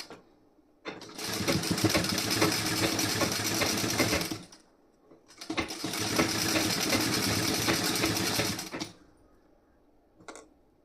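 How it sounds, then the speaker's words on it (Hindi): A sewing machine stitching fabric, likely a sleeve and back-panel design, runs in two long loud bursts separated by a short pause, with a brief mechanical click near the end. "तो यहाँ पे मैं सिलाई पक्की वाली लगा रही हूँ इस पर"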